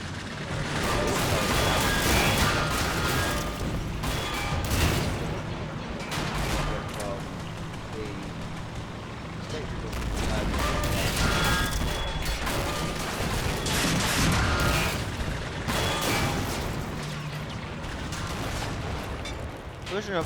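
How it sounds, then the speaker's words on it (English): Dense battle gunfire in Men of War, a Star Wars–themed mod, aimed at retreating droids: continuous overlapping shots and bursts with crashes and mechanical clatter, loud and sustained, with a voice talking over it. "they're just firing at those droids there"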